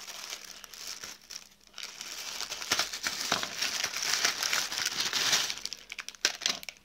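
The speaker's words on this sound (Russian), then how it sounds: "Сейчас у нас очередная распаковка товаров с сайта AliExpress." Parcel of paper drinking straws from AliExpress being unpacked, with steady close crinkling and rustling of packaging and occasional tearing, loud and without speech.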